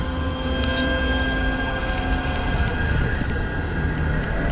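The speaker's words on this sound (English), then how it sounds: "we have got a tram coming" A tram passes along a wet city street on a rainy night, a loud, steady rolling rumble with humming electrical tones, close and continuous throughout.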